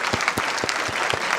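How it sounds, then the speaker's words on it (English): Brief applause rises from an audience at a talk on global warming, a steady wash of clapping at moderate level with a few distinct hand claps standing out. "I want you to have a big applause for all the heroes that I have listed above,"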